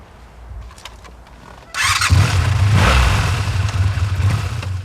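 A motorcycle engine starts and settles into a loud running rumble close by, following a quieter stretch of low background noise, with no talking over it.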